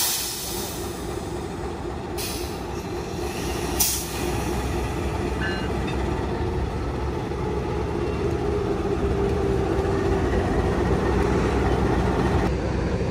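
A locomotive being uncoupled from a passenger train at Cikampek station, heard as a steady low rail-yard rumble of idling diesel, with a couple of brief sharp hissing bursts early on and no talk.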